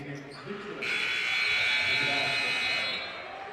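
A long electronic buzzer blares at the end of the half in a boys high school basketball game between Lone Peak and Syracuse, sounding loud for about two seconds over gym crowd noise and a commentator's voice.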